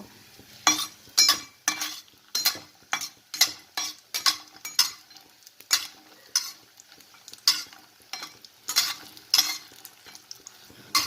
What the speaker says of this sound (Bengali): দিচ্ছি সর্ষের তেল দশ বারোটা বড়ি আমি ভেজে নেব